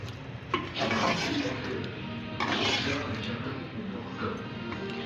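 A spoon scrapes and clinks in a pot as chickpeas are stirred into a chicken curry, murgh cholay, with someone talking over the stirring.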